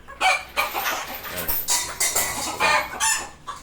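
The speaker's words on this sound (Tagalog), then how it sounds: "nag-iingay sila, nakakita ng inahin" Chickens cluck and squawk in a busy, continuous string of calls, close and fairly loud, with a rooster-like call mixed in.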